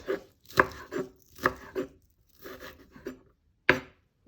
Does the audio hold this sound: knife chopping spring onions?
yes